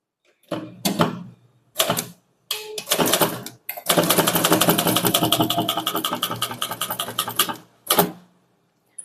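A Tamil typewriter clatters through bursts of keystrokes, first short separate runs and then one long rapid stretch of typing, closing with a few more sharp strikes.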